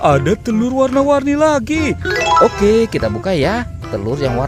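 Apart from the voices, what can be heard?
No everyday noise stands out behind the speech.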